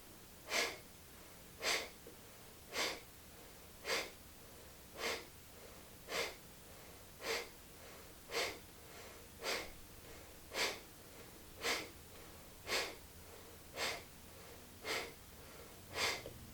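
Breath of fire, a rapid forceful Kundalini yoga breath, heard as evenly spaced sharp nasal exhales, about fifteen of them roughly one per second, close and clear over quiet background.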